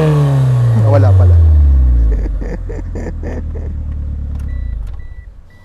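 A 1995 Mitsubishi Eclipse engine revs up loudly close by, then the pitch falls away into a rough idle with clatter and a faint hiss as it settles.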